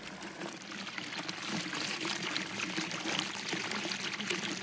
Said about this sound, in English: we have running water. That's not supposed to be running.